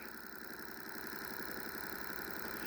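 A small toy electric motor spins a shaft with a pulley fitted to it, giving off a steady, close, fast-running whir with an even buzzing pulse that stays constant and fairly quiet throughout.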